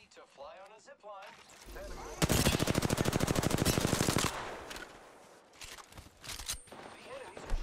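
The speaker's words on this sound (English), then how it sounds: "The enemies are shooting at me." Enemy automatic gunfire in Apex Legends erupts in a loud, rapid burst of evenly spaced shots lasting about two seconds, then trails off into scattered quieter shots and game noise, with voices speaking briefly before the burst.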